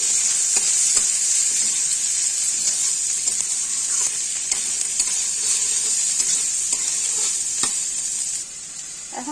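Finely chopped small onions fry in hot oil in a pan with a loud, steady sizzle and hiss, broken by occasional soft stirring knocks close by. The sizzle eases near the end, and no one speaks.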